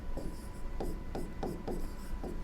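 Chalk or marker strokes on a board during a class 12 biology lesson, a close, steady run of short scratchy strokes in a quick rhythm, with no talking.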